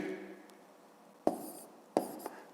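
A pen scratches out numbers by hand on paper during a fifth-grade math exercise, faint quick strokes with a couple of sharper taps, heard alone in a quiet room.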